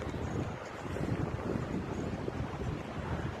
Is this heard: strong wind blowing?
yes